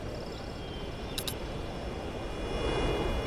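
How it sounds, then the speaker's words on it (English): High speed bomber taking off in C&C Generals, a steady, fairly faint jet-like rush that swells slightly toward the end, with a brief click partway through. "High speed bomber ready for takeoff"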